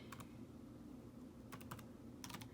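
Quick bursts of keystrokes on a computer keyboard enter a meeting ID in short clustered runs, close and faint over a quiet room hiss.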